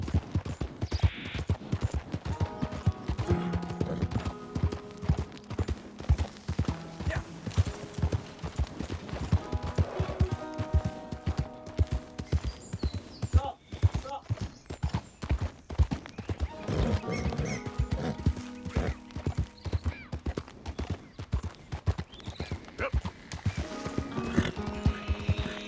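A horse in Red Dead Redemption 2 gallops in a fast, steady clip-clop of hooves for the whole stretch, with occasional whinnies and faint game sounds mixed in.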